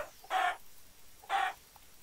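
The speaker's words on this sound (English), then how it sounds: "Chicken." A chicken in the Minecraft video game clucks twice in short, clear bursts about a second apart, at moderate loudness over a quiet background.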